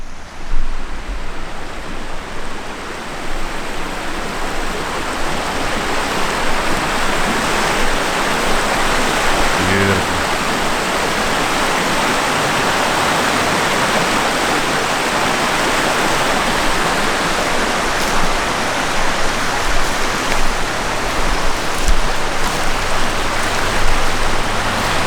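A river rushes continuously near a wild campsite, a loud, steady broadband roar of flowing water lasting the whole stretch with no voices.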